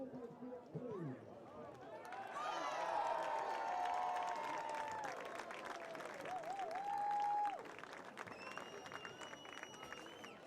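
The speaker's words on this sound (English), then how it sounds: "Please join in a round of applause for the members of this championship team." Crowd applause and cheering for a championship volleyball team at a college stadium, sustained and mid-distance under a public-address announcer's voice, with whistles and tonal sounds layered over it.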